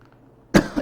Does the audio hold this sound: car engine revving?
no